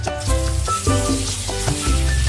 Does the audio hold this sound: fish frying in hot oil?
yes